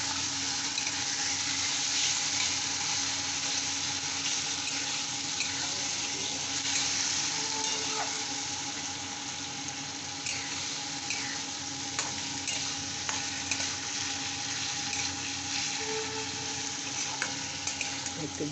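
Spice masala for a jackfruit-seed muithya dish fries steadily in a pan with a little water added, a dense continuous sizzle with scraping stir strokes running throughout, close and fairly loud, no voices.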